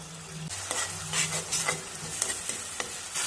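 Crushed ginger and garlic hit cooking tomatoes in a pan for aloo dum, giving a steady sizzle broken by a few sharp stirring scrapes.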